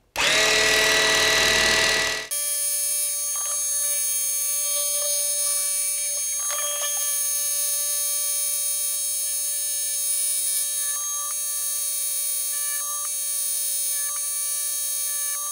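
A Dremel Moto-Saw scroll saw cuts small pattern shapes for a robot design, a steady high mechanical whine and buzz with a brief louder burst at the start, close and continuous, with no speech.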